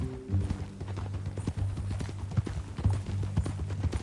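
Horse hooves clip-clop steadily in an even walking rhythm in the Red Dead Redemption 2 video game, close and moderately loud, with a low droning tone underneath.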